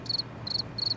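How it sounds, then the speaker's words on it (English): Crickets chirp in three short, evenly spaced bursts of rapid pulses, loud and close over a low steady hum. "Crickets."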